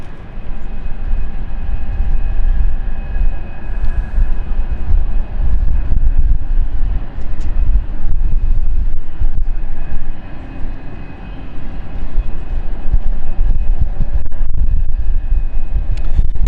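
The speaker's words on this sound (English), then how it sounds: "runway 27, cleared for takeoff" A jet aircraft roars loud and steady down runway 27 at London City Airport on takeoff, a broad rumbling engine noise that swells and holds throughout with no talk.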